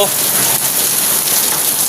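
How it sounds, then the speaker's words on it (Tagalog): Dense, steady downpour hissing on a roof at night, loud and continuous with no break; the roof leaks; no talking. "Buhos talaga ang ulan. Tulo-tulo pa ang bubong. Lakas ng ulan."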